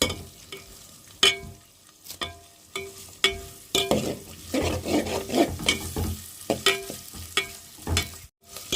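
A pulihora tempering with onions is stirred and fried in a pan, giving a soft steady sizzle broken by repeated sharp scrapes and clinks of a utensil against the pan, close and without talk.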